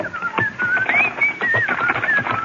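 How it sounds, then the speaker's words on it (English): A man whistles a cheerful, wavering tune while loading a wagon, close and steady with a continuous melodic line throughout. "whistled cheerfully as we loaded the wagon"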